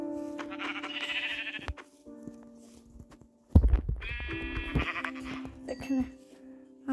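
Blocky Minecraft sheep bleat twice, each a clear wavering call lasting over a second, close and loud, with soft game noises and a thump between them.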